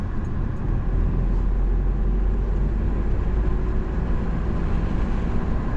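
A car pulling away under acceleration during a driving lesson, a steady low engine and road rumble from inside the cabin, continuous and fairly loud with no talking.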